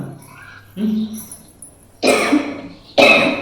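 Two harsh, loud coughs close to the microphone, following a brief murmur of voice.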